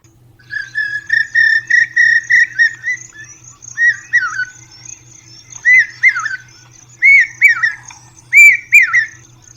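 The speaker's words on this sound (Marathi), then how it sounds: "वा कोकिळा, शाबास शाबास." An Asian koel calls repeatedly in a home courtyard, a series of loud, rising whistled notes in short bursts, close and clear with no talking over it.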